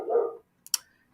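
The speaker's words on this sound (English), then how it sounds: "excuse the dog in the background" A dog in the background gives one short bark, then after a brief silence a couple of faint sharp clicks, isolated and without talking.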